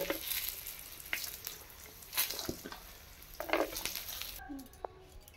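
Cashews and raisins frying in a pan of hot oil while chanachur is made at home, giving a soft, steady sizzle with occasional stirring clicks and scrapes, quiet and close.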